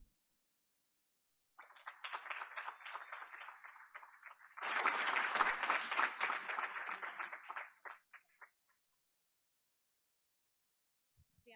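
Applause from the audience at a school board of education meeting, starting moderately, swelling louder midway, then tapering off to silence after several seconds.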